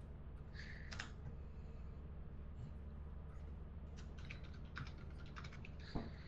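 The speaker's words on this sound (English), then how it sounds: "What is he typing up? a paragraph." Faint clicking of typing on a computer keyboard, in scattered bursts of keystrokes with brief pauses, quiet under a steady background hiss, during a game of Lethal Company.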